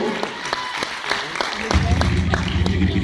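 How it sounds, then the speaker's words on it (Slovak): Audience applause for Maro at a 2012 dance show festival, starting partway through as a loud, dense wash of clapping that swells up and continues steadily, with voices talking over it. "Zatleskáme Marovi"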